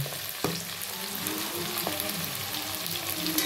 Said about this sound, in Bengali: টমেটোটা হালকা ভেজে এবার ম্যারিনেট করা মাংসটাও দিয়ে দেবে